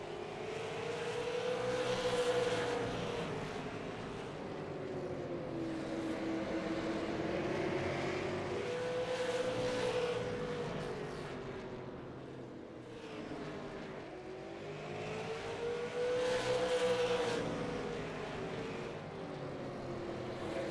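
Race cars circle a short oval track at the Bullring, their engines droning steadily at a distance as the pitch rises and falls with each lap.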